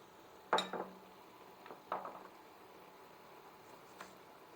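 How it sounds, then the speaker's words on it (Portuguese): A knife slicing a tomato on a cutting board, giving a few faint, sharp taps spread over a few seconds in an otherwise quiet kitchen. "Vou terminar de cortar aqui esse tomate."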